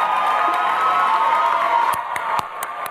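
Graduating students and their audience at a university commencement clap and cheer in a sustained, crowded roar, with a few sharp individual claps standing out near the end as the noise eases slightly.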